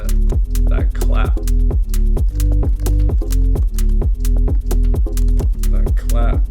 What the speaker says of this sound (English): That clap to finalize the groove